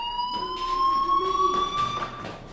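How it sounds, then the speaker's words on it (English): A fire alarm rings in the video game Life is Strange, a steady electronic tone with pulsing beeps, fairly loud and close, with no talking over it. "Hey, do you hear that fire alarm?"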